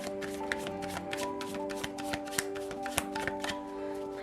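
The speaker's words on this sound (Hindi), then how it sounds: "शफल कर लेते हैं कार्ड्स को ऑप्शन 2 के लिए।" Tarot cards shuffled by hand in a rapid series of crisp riffles and soft slaps, close up, over a faint steady tonal background hum.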